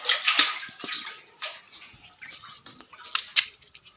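A bucket draws water from a household water tank, giving soft splashing, sloshing and dripping sounds in irregular bursts, close and fairly quiet.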